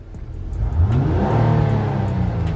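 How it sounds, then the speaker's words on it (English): A car engine revs up loudly and steadily from close by, rising to a sustained mid-pitched roar with its active noise cancellation system disabled; no talking. "rev the engine up again"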